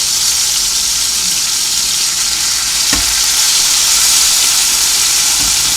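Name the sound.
steak with minced garlic sizzling in a pan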